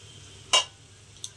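Cumin seeds, whole coriander and chana dal frying in oil, heard as a low steady sizzle beneath one sharp stirring scrape and a later faint clink, close and without talk.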